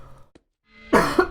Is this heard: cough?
yes